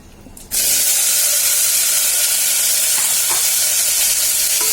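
Asafoetida and a few fenugreek seeds drop into hot oil and burst into a loud, steady sizzle that begins abruptly and hisses evenly to the end, with no voices.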